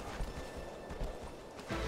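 A horse's hooves clip-clop in Shadow of the Colossus in a steady walking rhythm. The footfalls are fairly quiet and evenly spaced, with a slightly heavier thud near the end.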